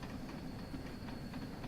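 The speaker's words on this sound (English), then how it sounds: "Come on, train, you can do it." A train rumbles steadily along the rails in Train Sim World 3 on the Peak Forest Railway, a low continuous drone with faint rhythmic wheel clatter and no voices.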